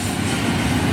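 A train rumbling steadily close by, a loud continuous roar of rail noise with faint clickety-clack and no voices.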